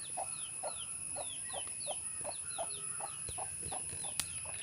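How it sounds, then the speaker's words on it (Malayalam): Backyard chickens at a home cluck in a steady run of short, evenly spaced calls, fairly close by, while small birds chirp higher up in the background; no talking. "നമ്മളെ കോഴികൾ ഇവരുണ്ട്"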